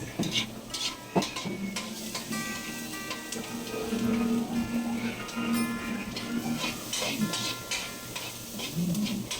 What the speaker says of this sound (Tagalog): Antayin lang natin na mag-brown yung sibuyas.